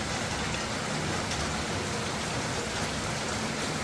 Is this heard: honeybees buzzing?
no